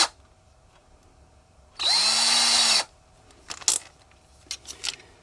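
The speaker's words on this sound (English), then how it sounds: "Now I start my hole with the tiniest drill bit that I can find." Cordless power drill boring a hole with a tiny 1/16 inch bit: one loud whirring burst of about a second that winds up and spins down, followed by light metallic clinks and handling clatter, close by.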